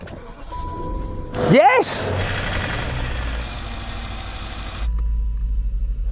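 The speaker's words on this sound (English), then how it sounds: "So gentlemen, again, start your engines in 3, 2, 1, go" BMW and Porsche engines with no oil crank and fire, then settle into a rough, loud idle. A voice cheers as they catch, and a brief high whine appears early on.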